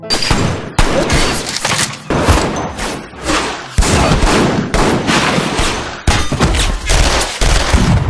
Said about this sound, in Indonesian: Akhirnya terjadilah aksi tembak-menembak.